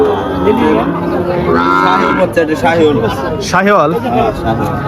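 Cattle mooing at a rural cattle market in Faridpur, Bangladesh, with long, loud, close lowing calls repeating through the clip over steady crowd chatter and people talking nearby.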